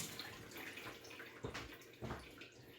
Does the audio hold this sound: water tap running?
yes